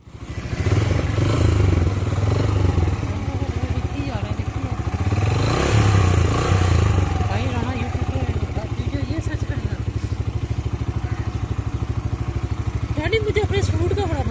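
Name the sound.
Yamaha YBR 125G motorcycle being ridden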